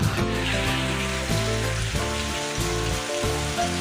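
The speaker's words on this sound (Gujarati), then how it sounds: "આવો વરસાદ 4 દી માં બીજી વાર આવ્યો." Heavy rain pours down steadily, drumming densely on surfaces nearby with a constant loud hiss and patter, no voices over it.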